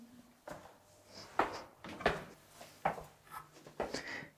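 Cellar door in an old farmhouse being opened, a string of close wooden knocks, clacks and creaks as the latch and panel shift, with a few sharper bangs among them.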